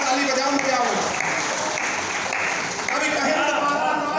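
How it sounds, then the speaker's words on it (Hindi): Sustained audience applause at a Hindi comedy poetry gathering (hasya kavi sammelan), a dense, steady wash of clapping lasting throughout, with a voice speaking over it. "जोरदार ताली बजाओ"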